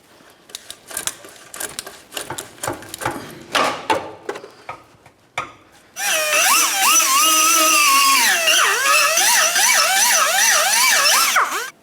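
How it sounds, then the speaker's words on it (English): A power tool cuts the exhaust pipe of a 2004–2006 Scion xB: scattered rattling knocks come first, then a loud, continuous, high whine whose pitch wavers as the cut proceeds. "I'm going to have to cut this pipe and then put it back together."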